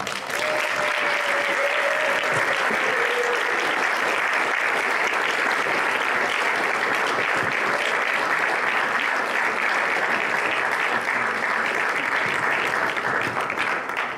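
An audience applauds to welcome Dr. Milton Mills before a lecture, a dense, steady roar of clapping from a large room that holds loud and unbroken throughout.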